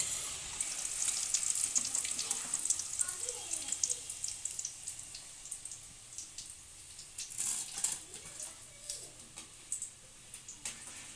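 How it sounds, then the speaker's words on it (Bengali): Cabbage Manchurian balls fry in oil until golden brown, a crackling, bubbling sizzle up close with intermittent clinks and scrapes of a spoon, louder early on and softer with sharper pops later. "এগুলো সব গোল্ডেন ব্রাউন করে ভেজে নিয়েছি এবারে তুলে নেব"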